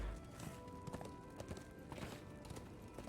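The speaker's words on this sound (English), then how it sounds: "Just come along for the ride on the fun fire horse." Fire horse hooves clip-clop at a steady trotting rhythm in the video game Darksiders 2, continuous and fairly close under a dense bed of game music and ambience.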